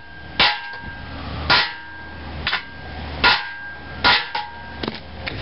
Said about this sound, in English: I'll take my hammer and